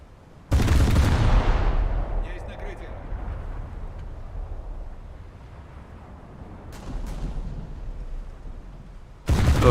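Heavy naval gunfire in a warship video game, aimed at the cruiser Omaha: a loud booming salvo opens, its rumble decays, another thud comes midway, and a sharp burst hits at the end.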